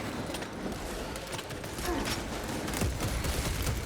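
Rapid gunfire in Warhammer 40k: Space Marine 2, dense bursts of shots and battle noise running steadily throughout, loud and busy with no clear gaps.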